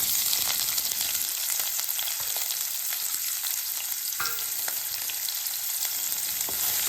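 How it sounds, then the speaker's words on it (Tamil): Sliced onions and torn bay leaf fry in oil in a pressure pan, a steady close sizzle with occasional stirring scrapes throughout. "அடுப்பில் ப்ரெஷர் பேன் போட்டு எண்ணெய் விட்டுருக்கேன்."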